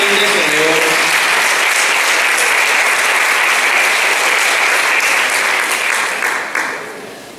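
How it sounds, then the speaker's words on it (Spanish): Sustained applause from a symposium audience in Bejuma, a dense, steady clapping wash filling the room for several seconds before tapering off at the close. "Fuerte el aplauso entonces para la licenciada Isa Andreina Galín de León."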